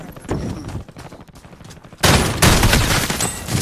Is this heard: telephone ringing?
no